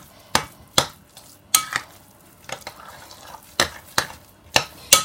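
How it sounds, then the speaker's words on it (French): Butter being mixed into mashed potatoes, heard as a steady series of sharp scraping strokes of a utensil against the bowl, roughly one to two per second, close and without talk. "Maintenant, j'ai mon beurre, je mélange bien"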